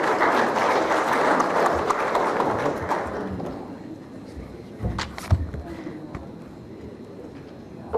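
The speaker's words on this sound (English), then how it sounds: "please another round of applause" Applause from an audience at a corporate anniversary celebration in Fiji fills the room with dense clapping, then thins out and fades to scattered claps and a few knocks.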